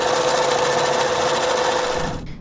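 A sewing machine stitches satin binding onto a baby blanket, running loud and steady at close range with no talk, then stopping abruptly near the end.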